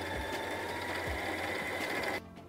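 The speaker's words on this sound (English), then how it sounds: "wind a little bit, snip the extra thread off, continue to wind the bobbin until it is actually full." A Brother LS2160 mini sewing machine winds a bobbin with a steady, even motor whir at close range, running continuously before cutting off abruptly near the end.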